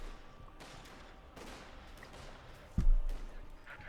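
Gunfire in a Company of Heroes 2 battle, scattered faint distant shots and rattling bursts, then one louder close blast near the end, under low background game ambience.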